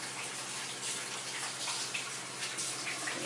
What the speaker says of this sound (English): While I wash my hands.